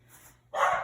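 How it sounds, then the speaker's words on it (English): A dog gives a short, sharp bark after a moment of quiet, close and fairly loud. "Excuse my dogs."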